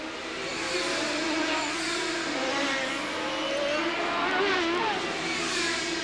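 CART Indy race cars racing at Surfers Paradise in 1992, with a new Penske car in the field, their engines droning loudly and continuously with rising and falling whines as the cars pass, no voices.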